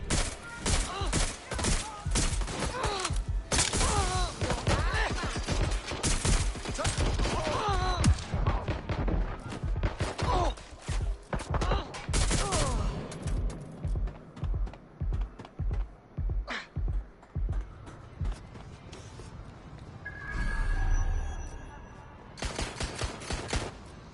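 Sustained gunfire from a shooting video game, with rapid volleys of sharp, loud shots running through most of the stretch before thinning to scattered bursts and a final flurry.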